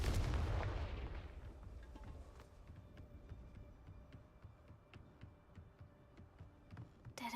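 The Confringo fire spell in Hogwarts Legacy bursts with a loud, booming blast that decays into a low rumble, followed by faint scattered crackles and ticks.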